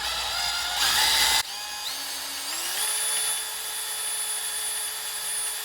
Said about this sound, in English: After about 10 to 15 minutes of drilling, I've got 5 holes